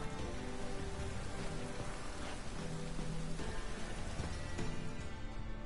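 Steady rain in The Witcher 3: Wild Hunt patters densely on surfaces, a constant wash of droplets at moderate volume with no voices.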